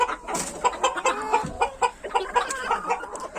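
Hens and chicks cluck and peep close by in a farmyard, a busy overlapping chatter of short calls with no voices.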